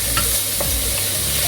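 A bean stew mixture sizzles and fries in a pan while being stirred, giving a loud, steady crackle with faint scraping strokes and no talking.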